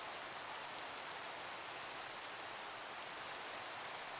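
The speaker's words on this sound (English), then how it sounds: "Wish it would stop raining." Steady, even Minecraft rainfall hiss filling the whole clip, constant and unbroken, with no voices or other sounds.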